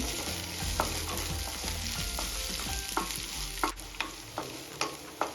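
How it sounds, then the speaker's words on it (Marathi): Spoon scrapes and stirs potato sandwich filling with crushed green chili frying in a pan, a steady sizzle under repeated rhythmic clacks of the spoon against the pan, close and fairly loud, with no talking. "आता यामध्ये ठेचून घेतलेली हिरवी मिरची ऍड करायची मिरची व्यवस्थित मिक्स करून घ्यायची सर्व साहित्यामध्ये"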